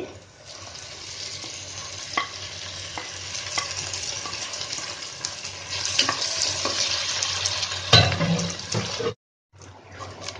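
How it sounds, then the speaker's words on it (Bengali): Mashed fish fries in a pan while being stirred: a close, continuous sizzle with scraping and stirring strokes that grows slightly busier before stopping near the end. "আমার মাছ ভর্তাটা ভাজা হয়ে গিয়েছে"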